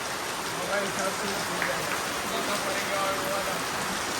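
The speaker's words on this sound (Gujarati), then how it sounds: "ફૂલ વરસાદ આવ્યો છે" Heavy rain falls in a constant, dense roar of drops hitting surfaces, unbroken throughout.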